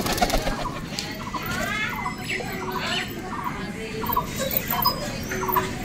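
Pigeons in a loft, including Madras pigeons, cooing in soft repeated throaty phrases amid a busy background of rustling and faint wing movement.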